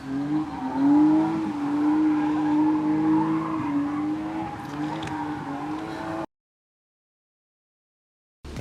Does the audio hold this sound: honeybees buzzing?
no